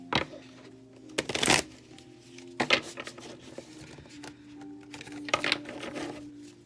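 Tarot cards are shuffled and riffled in several quick, crisp bursts of flapping and patter close by, separated by brief pauses over a faint background hum.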